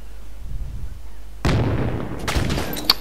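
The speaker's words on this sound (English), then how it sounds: "Man, mortar attack is so awesome." Mortar attack in the Project Reality military shooter game: a muffled low rumble, then a sudden loud blast followed by crackling gunfire and sharp pops.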